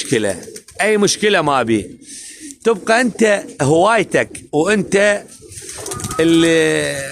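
Pigeons coo softly in the background while someone talks loudly in Arabic over them, the birdsound mostly buried under his speech.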